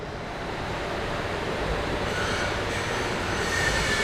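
A cold press oil machine, a marachekku type, grinds groundnuts into powder with a steady, dense mechanical rumble and churning noise that holds loud and even throughout, with no voices.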